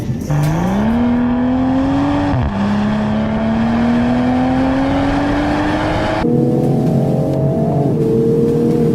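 A tuned 2021 Toyota GR Supra 3.0 accelerates hard: a loud, close engine note climbs in pitch through two gears with brief dips at each upshift, then eases off near the end.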